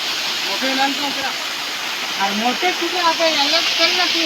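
Constant roaring rush of a forest waterfall at night fills the background while several people talk over it.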